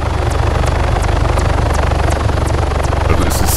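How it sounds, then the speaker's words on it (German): A helicopter in the military game Arma III, on the Thirsk map, throbs with a steady rotor beat and low engine drone, loud and close throughout. "das ist der Heli, bei dem ich vorhin war"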